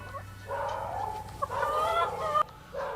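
Laying hens cluck and squawk in rising, drawn-out calls, a couple of birds overlapping nearby against a low background hum.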